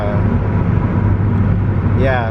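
A car idles right beside someone standing at a roadside, its low engine rumble steady and close throughout, with a brief higher whine rising near the end.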